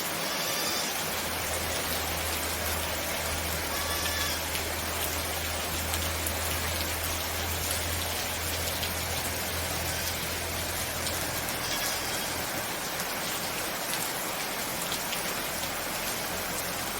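Steady rain pours down without a break, a dense close hiss of drops drumming on surfaces with no voices over it.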